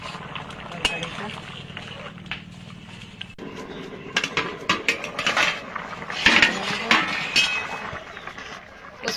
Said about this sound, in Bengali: আমি ঢাকনা তুলে একটু নাড়িয়ে দেব